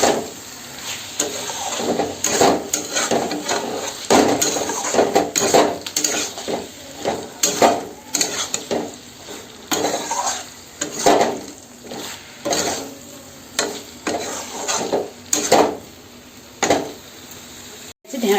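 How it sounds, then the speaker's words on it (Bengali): Fried okra being stirred into a yogurt curry in a pan, with steady scraping and clinking of a utensil against the metal and a soft sizzle running underneath, close and fairly loud throughout. "এর উপরে যে ভেজে রাখা ঢেঁড়সগুলো কিন্তু দিয়ে দেব। ভালো করে একটু মিশিয়ে নিচ্ছে"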